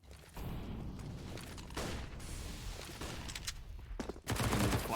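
An MP9 submachine gun fires rapid bursts in the video game Counter-Strike, on the Inferno map during a competitive match. Dense, sharp gunfire runs almost continuously, with a louder burst near the end.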